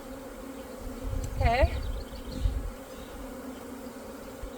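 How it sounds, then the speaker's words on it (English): Bees buzz in a steady close drone during the installation of a nucleus colony, swelling briefly as individual bees pass near; someone says a single word over it. "there's a lot of bees in that box again"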